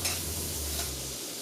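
Shrimp seasoned with salt, pepper and a splash of wine sizzle in a pan, a close, even frying hiss that runs unbroken for a brief moment without speech.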